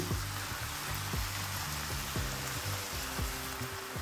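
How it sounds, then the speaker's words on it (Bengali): Soaked rice goes into frying masala in a pan, making a quiet, steady crackling sizzle with faint tonal sounds underneath. "এবার দিয়ে দেব রাইসটা, যে রাইসটা আমি ভিজিয়ে রেখেছিলাম সেটা দিয়ে দিচ্ছি"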